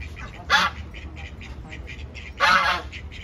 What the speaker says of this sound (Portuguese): Olha os gansos canadenses.